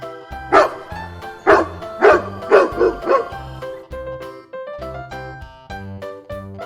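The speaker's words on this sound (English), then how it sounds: "Dog." A domestic dog barks repeatedly in loud, close, evenly spaced yaps, with a few higher whimpering notes between them.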